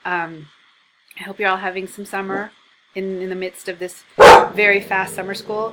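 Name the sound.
dog barking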